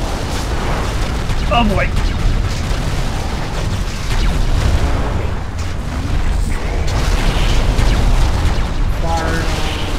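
Loud, continuous rumbling booms of missile explosions and mech combat in the MechAssault multiplayer video game, with dense low roaring throughout. A voice briefly speaks over it.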